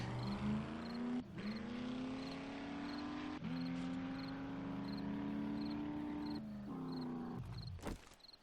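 Truck engine from the video game 7 Days to Die idling and revving in steady surges, a droning hum with a few brief dips, alone with no talk.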